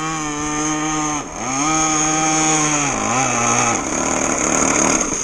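High-revving two-stroke engine on a Blazer Marine Backlash Gen 3 RC boat, loud and close, with a buzzing harmonic whine that dips twice as the throttle is blipped and then climbs again.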